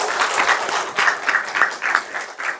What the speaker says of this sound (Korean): 우리 주일학교 수고하시는 여러분들 위해서 한번 박수 한번 합시다